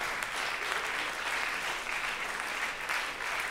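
An audience at a talk in Charleroi applauds for an urbanist, with dense, steady clapping that stays at an even level from start to finish and has no voices over it.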